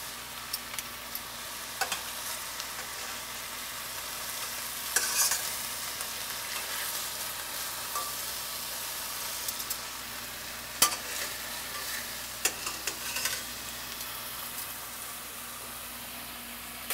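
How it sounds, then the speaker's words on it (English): Chicken breasts brown in a frying pan, a soft continuous sizzle with occasional scrapes and clinks of a utensil, fairly quiet and steady, with no talking. "we're just browning these right now"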